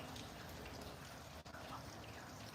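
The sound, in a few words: rain falling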